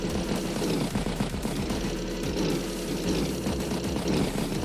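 A tank strikes infantry in the Advance Wars video game, giving dense, continuous rapid gunfire over a low rumbling engine for a few seconds, with no voices.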